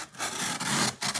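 A Barlow pocket knife slices through a small taped cardboard box in two quick, scratchy, rasping strokes, heard close and alone.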